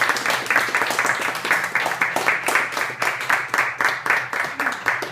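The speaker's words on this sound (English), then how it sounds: "a big round of applause for Rob, who's documented the evening" An audience applauds Rob at an evening event, with steady, moderately loud clapping repeating in a rhythmic pulse throughout.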